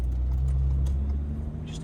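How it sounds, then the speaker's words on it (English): A campervan pulling out past a lorry on an Irish road, a deep steady engine and road rumble close inside the cabin, with a voice talking faintly over it. "just overtake this lorry"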